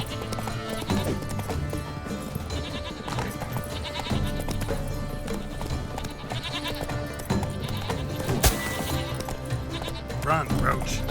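Roach, the horse in The Witcher 3, gallops with steady, rhythmic hoofbeats under dense, continuous game music and ambience.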